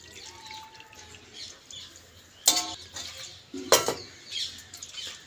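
Water is poured from a container onto colocasia leaves coated with gram flour, giving two short splashing bursts against a quiet kitchen background with faint clinks.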